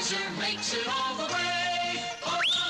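A choir sings within a retro Budweiser beer commercial: sustained, blended voices in shifting chords over a musical backing, fairly loud and continuous, ending with a rising vocal swoop.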